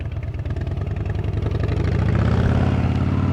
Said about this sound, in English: Man, I love this bike. Dude, it's a different experience with this setup. I love this engine.